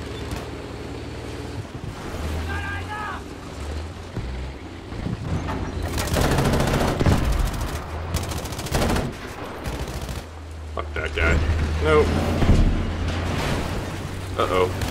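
Gunfire in the shooter game Battlefield V during a tank push, with bursts of shots and explosions scattered through a loud, continuous battle din, while someone talks over it.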